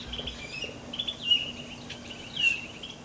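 A bird calls in a garden in fall, giving a few short, faint high chirps spread over a few seconds against a quiet outdoor background.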